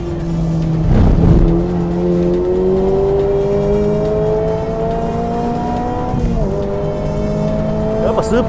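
An HKS-supercharged Toyota GR86 races on a circuit, its engine note climbing steadily through the gears close up, with a brief shift dip and some tire noise. A voice talks over it.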